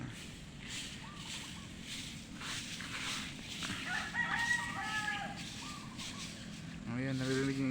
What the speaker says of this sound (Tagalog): Naririnig niyo yung huni ng ibon?